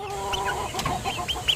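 Backyard chickens about two and a half months old cluck in short bursts, with several birds close by over a steady background hum and no talking.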